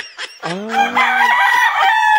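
A rooster crows once, loud and close, a full drawn-out cock-a-doodle-doo ringing out on its own.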